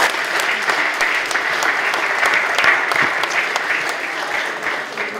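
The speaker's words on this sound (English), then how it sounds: "Thank you very, very much indeed. Big round of applause." Loud, close audience applause after a lot is sold at a charity auction at Brooklands, a dense steady round of clapping that carries on evenly for about five seconds.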